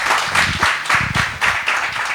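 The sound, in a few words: audience applause welcoming the speaker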